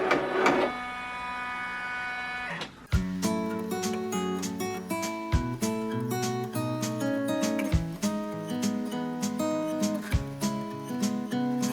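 Embroidery machine running an appliqué decorative stitch, a steady rapid mechanical chatter with a pulsing stitch rhythm, close and continuous after a brief start-up, with no talking.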